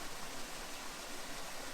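A hidden waterfall in Shawnee National Forest spills into a blue pool, giving a steady, even broadband rush of falling water that continues unbroken and fairly soft throughout, with no voices over it.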